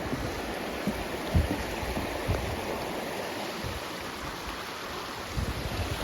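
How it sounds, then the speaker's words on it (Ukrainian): A small mountain stream flows beneath a footbridge on a summer hike in the Carpathians, a steady close rushing and babbling of water with faint wind, no voices. "Струмочок."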